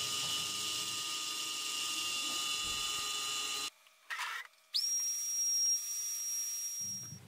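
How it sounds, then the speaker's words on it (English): An Inventables X-Carve CNC router with a single flute bit carving acrylic, a loud, steady high-pitched spindle whine that cuts out abruptly, restarts with a rising tone, and holds steady again. "Remember that cutting acrylic takes a little bit of extra time."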